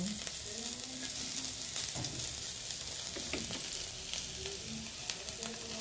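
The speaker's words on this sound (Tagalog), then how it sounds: "ilalagay na natin itong bawang. Lagyan natin bawang." Garlic fries in a pan for Filipino afritada, a steady close sizzle with occasional stirring clatter and no talk.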